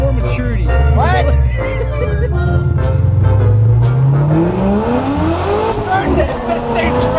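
A Corvette accelerates hard, its engine note climbing steadily through the revs as a loud, close roar, with a voice talking over it.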